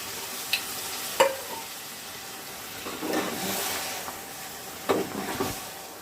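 Boiled vegetables are tipped into cooked masala in a pan and stirred, giving a few soft clunks and scraping stirs over a quiet, steady sizzle.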